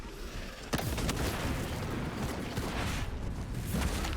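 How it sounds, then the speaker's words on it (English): A crack grenade detonates in Space Marine 2 with a sharp blast, then sustained rumbling combat noise and further bangs and gunfire continue, fairly quiet overall, with no voices. "Crack grenade unleashed."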